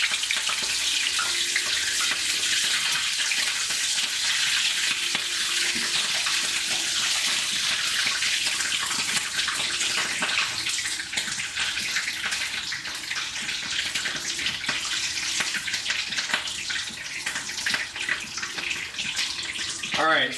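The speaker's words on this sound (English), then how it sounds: "frying the tortilla to make it golden brown and crispy" Steady, bright sizzle and crackle of beef burritos frying in hot oil until the tortillas turn golden and crispy, continuous and close for the whole stretch, with no talk over it.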